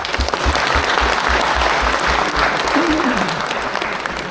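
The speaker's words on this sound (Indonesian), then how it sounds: "Mari kita sambut mereka dengan tepuk tangan meriah." Loud, sustained audience applause welcoming guests at an Indonesia–Uzbekistan cultural event in Tashkent, dense clapping throughout with a brief voice briefly audible beneath it.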